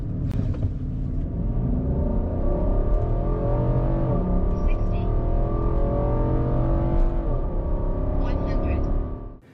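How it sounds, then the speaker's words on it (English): A 2021 Nissan Armada Platinum 4x4 truck accelerates at full throttle, its engine note rising loudly and steadily for several seconds before cutting off abruptly, with a voice speaking over it. "Pedal to the metal, this big-boned truck can hit 100 kilometers an hour in just 7 seconds."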